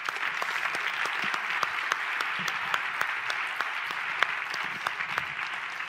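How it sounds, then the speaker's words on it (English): Steady audience applause fills a live motivational seminar hall, dense and continuous throughout with a few sharper individual claps standing out. "Give yourself another round of applause, guys."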